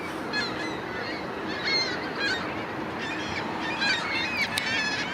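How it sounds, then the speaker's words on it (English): Several seagulls call in scattered squawks and honks over a steady outdoor wash in Toronto, some near and some farther off. "Can you hear the seagulls?"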